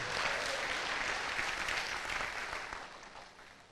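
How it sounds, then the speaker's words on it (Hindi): An audience at a talk on problem-solving breaks into a hearty round of applause, a dense, even wash of clapping that fades slightly toward the end. "एक जोरदार तालियां होनी चाहिए आपके लिए"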